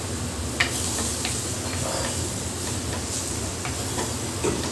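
Prawns and small boiled mutton pieces stirred together in a sizzling pan, a constant hiss of frying with a few light scraping taps from the spoon, close and steady, with no voices.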